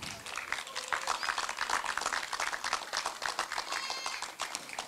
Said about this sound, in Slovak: prosím pre nich o veľký potlesk